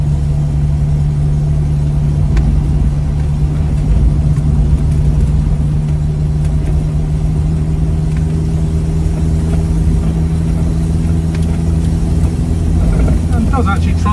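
A 1955 Fiat 500C Topolino convertible moves along the road, its small engine giving a steady low drone with a constant hum and road rumble throughout. A person talks over it.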